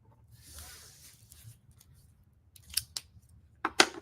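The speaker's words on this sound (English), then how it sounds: "I'm going to take my detail scissors here and just do some cutting" Detail scissors snip through craft paper for a patriotic shadowbox, several sharp, close cuts in quick clusters near the end after some quieter rustling.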